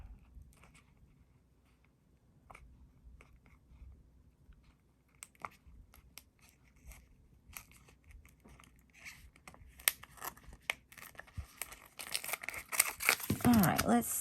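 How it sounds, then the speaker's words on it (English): Scissors snip through origami paper to shape a paper dress, a run of short crisp cuts and crinkles that grows busier and louder toward the end, with a person talking over it. "So I'm just going to hold it here, and I'm going to cut it to about right here. And I'm going to cut it on this one."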